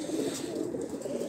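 Domestic pigeons coo in a low, soft, continuous murmur, several birds overlapping close by with no voices over them.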